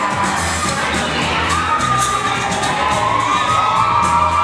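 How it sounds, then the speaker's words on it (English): A wrestling crowd cheers and shouts continuously, a dense wash of many voices with high-pitched whoops and yelling, loud and steady throughout with no pause. "these people are cheering, wanting his dirty,"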